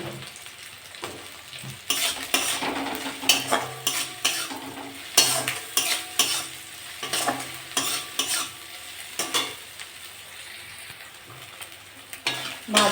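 Onion and shrimp frying in a pan with a little cumin powder, a steady sizzle broken by repeated loud scraping stirs of a utensil against the pan throughout, with no talking.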